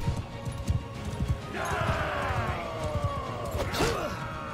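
Horse hooves clopping in a video game, a rapid patter of footfalls under a mix of game sounds, with a whinny-like tonal sweep and a brief crash near the end.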